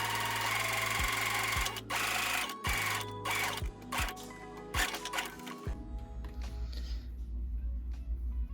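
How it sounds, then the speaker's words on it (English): A sewing machine runs a long gathering stitch through chiffon, a steady mechanical whir broken by short pauses and restarts over about six seconds, then it stops and leaves a low room hum. "So I'm just going to sew these two real quick."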